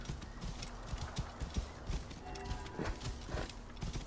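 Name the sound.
donkey hooves clip-clopping in video game Assassin's Creed Origins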